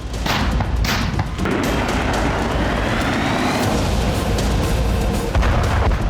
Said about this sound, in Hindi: रूस के महाविस्फोट से यूक्रेनी शहर आग की लपटों में घिर गए